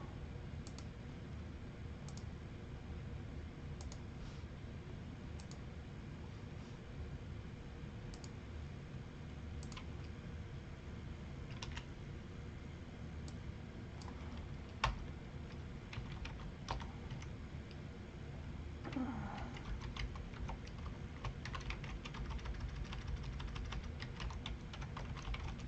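Keyboard typing with quick, irregular clicks running through the whole stretch, fairly faint over a steady background hum during a live sports card break stream; no one speaks.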